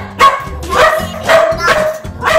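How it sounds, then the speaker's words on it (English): A dog barks about five times in a quick, regular series, loud and close, each bark sharp with a slight yipping edge and no other sounds between. "My dog, his name is Simba"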